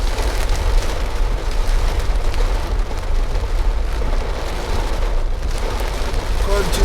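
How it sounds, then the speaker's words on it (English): Heavy countryside rain in Santa Cruz, St. Elizabeth, Jamaica, a loud, steady wash of pouring rain and pattering drops that continues throughout with no pauses. "You can hear the sound of the raindrops"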